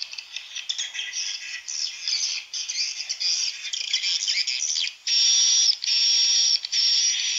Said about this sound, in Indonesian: Yang mana suara birahi yang ada pada BJA